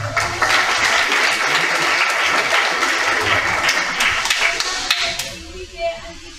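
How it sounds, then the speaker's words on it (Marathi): A Marathi lecture audience breaks into loud, steady applause that fills the hall for several seconds, then thins out toward the end as a voice begins to speak. "टाळ्या."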